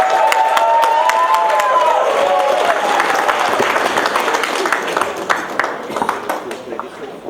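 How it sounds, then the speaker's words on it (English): Wedding guests applaud a groom at his reception, a dense sustained clapping that fills the room and slowly thins toward the end, with some crowd voices mixed in. "So let's get a round of applause for Mr. Dave Ramsahai"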